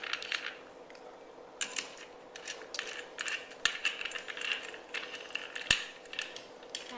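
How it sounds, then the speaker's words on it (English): A nut is screwed back onto the blade flange of a brush cutter attachment, giving a run of small metallic ratcheting clicks and light taps close up, with two sharper clinks standing out and no speech. "Now we can screw the nut back on anti-clockwise."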